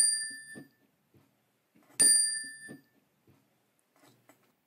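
A chime rings twice, each a bright metallic ding with shimmering overtones that is quickly damped and stopped, with quiet pauses and faint knocks between the strikes.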